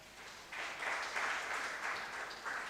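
A lecture audience claps, a faint, scattered patter of applause that starts after a moment and keeps on evenly at a distance.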